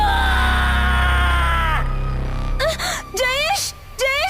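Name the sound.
monster Munjya screaming loudly, horror story sound effect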